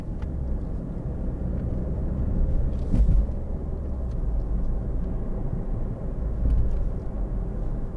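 A 2013 Ford Focus 1.6 TDCi ECOnetic Zetec five-door rounds a roundabout, a steady low engine and road rumble heard from inside the cabin that swells slightly twice, with no talk.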